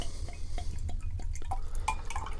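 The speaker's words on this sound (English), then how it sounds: "Let's pour the Proper Job." St. Austell Proper Job IPA pours into a small glass, giving a steady close trickle and fizz with scattered drips and clinks over a low indoor hum.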